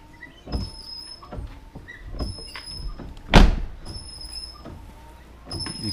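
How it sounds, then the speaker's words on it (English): Windshield wipers on a 1999 Chevy Tahoe sweep back and forth, giving a steady rhythmic thumping and rubbing with a faint motor whine. One louder scrape stands out midway. "with your wiper blades on, I'm gonna go ahead and run them"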